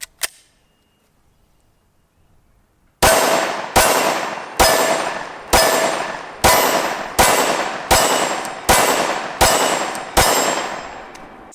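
Glock 23 pistol firing .357 SIG rounds, nine loud, sharp gunshots at a steady pace of roughly one every 0.8 seconds, each with a ringing tail, following a few seconds of near silence.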